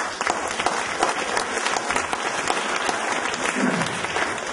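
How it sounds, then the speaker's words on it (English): Loud, dense clapping from a sizable audience at a mayor's State of the City address in Lincoln City, Oregon, sustained for several seconds with a slight rise and fall in intensity. "I want to give them a round of applause."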